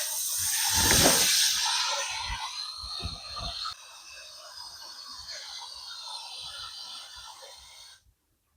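A hose pours fresh water into animal water bowls during morning chores, a steady close hiss and splash that starts loudest and softens as the bowls fill, cutting off at the end.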